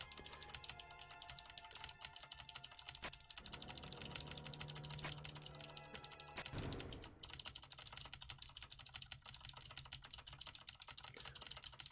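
Clicky computer keyboard keys pressed in a rapid, steady stream of sharp clacks throughout, mixed with game music and effects during a Deltarune speedrun.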